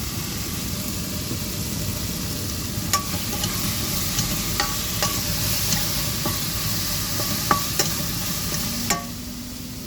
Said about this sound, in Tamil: வதங்கட்டு கொஞ்சம்.